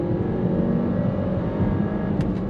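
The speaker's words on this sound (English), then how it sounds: "Hear that turbo engaging." Land Rover LR2 engine pulling hard during a 0 to 60 run, a continuous loud interior drone with a faint whistle-like turbo tone layered above, brief and steady without talk.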